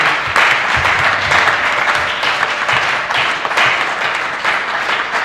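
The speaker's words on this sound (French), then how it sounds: "On acclame pour la gloire de Dieu." A church congregation applauds in praise of God, steady loud clapping from many hands filling the room without pause for several seconds.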